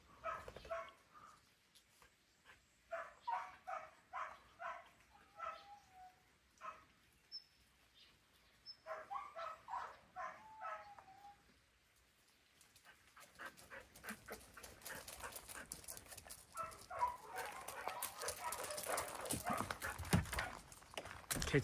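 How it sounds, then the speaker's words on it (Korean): Dogs bark from indoors, muffled and moderately distant, in repeated rhythmic volleys with pauses, later giving way to a denser, noisier stretch of scuffling and panting. "안에 개들이 짖는 소리 듣고서."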